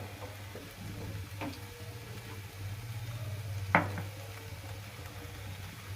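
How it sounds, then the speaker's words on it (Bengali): Spices and vegetables frying in a pan while being stirred for pumpkin with winter vegetables: a low steady sizzle runs throughout, broken by a few faint utensil clicks and one sharper scrape against the pan. "মশলাটাকে ভেজে নিলাম"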